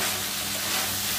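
Kabuli chickpeas cooked down with spices hiss and sizzle steadily in a hot pan, a close, even frying crackle with no voices.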